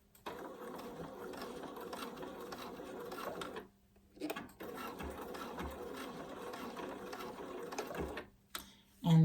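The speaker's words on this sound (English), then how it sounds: "I'm going to stitch forward about 5 stitches and then back stitch to anchor it." Sewing machine stitching a fabric face mask, a close steady rhythmic hum in two bursts split by a short pause, with a brief click at the end.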